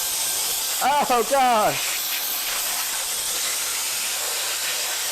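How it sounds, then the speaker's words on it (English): Compressed air sprays a steady broadband hiss while blowing dust out of a dirty gaming computer, running continuously through the whole stretch, with a brief exclaimed voice near the start. "I just sprayed straight schmegma all over my room."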